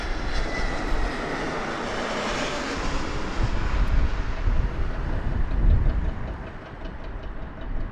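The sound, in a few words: airplane landing at Las Vegas Harry Reid International Airport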